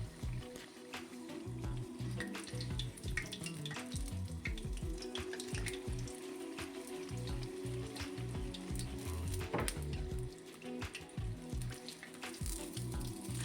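Chebureks made from lavash fry in about 400 g of hot oil in a pan over medium heat. A steady, dense sizzle and crackle runs throughout, with small pops and spatters and no talking.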